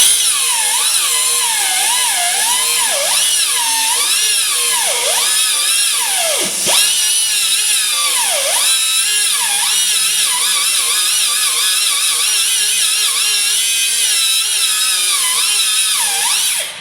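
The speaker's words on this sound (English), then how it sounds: "when you're cutting bolts like that, you gotta be careful" A high-pitched power tool whines steadily while cutting stainless steel bolts on a 2010 Volvo D13 engine, its pitch wavering and dipping repeatedly under load, loud and continuous throughout without talk.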